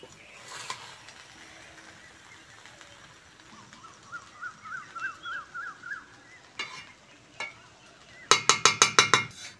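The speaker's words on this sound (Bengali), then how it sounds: "আর বিরিয়ানি মশলা। একটু নেড়ে চেড়ে দেবো।" Egg biryani is stirred in a pot over the stove, giving a soft sizzle with scattered scrapes, a run of rhythmic clinks midway and a burst of sharp, loud metallic knocks near the end.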